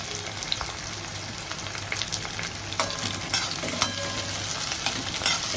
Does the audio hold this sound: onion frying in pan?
yes